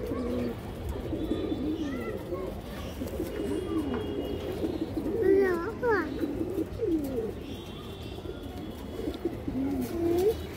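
A female Bezi-line pigeon coos in a series of rising, warbling calls over several seconds, close and moderately loud, with other birds chirping faintly and some background chatter.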